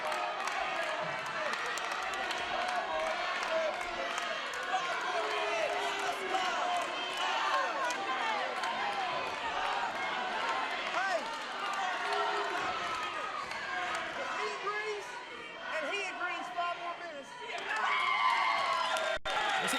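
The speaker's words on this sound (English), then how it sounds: "You listen to this crowd screaming for 5 more minutes." Wrestling crowd at an NWA Smoky Mountain match screaming and cheering without pause, a loud, dense roar of many voices with whoops and shouts that swells again near the end.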